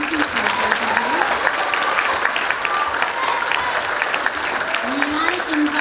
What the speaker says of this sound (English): I just want to give all of you another round of applause